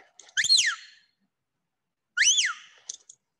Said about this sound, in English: I'm going to use my whistle now.